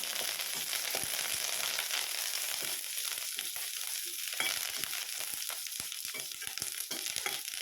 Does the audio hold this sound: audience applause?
no